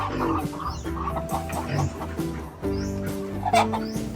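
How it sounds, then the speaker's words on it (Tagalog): Free-range chickens and many chicks cluck and cheep together in a backyard farm, a busy, nearby chorus of overlapping clucks and high peeps that continues without pause. "Marami na yung sisiw."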